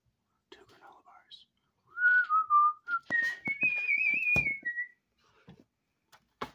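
A person whistles a short tune up close, a few sliding, wavering notes rising and falling, alone with some soft clicks and rustles around it.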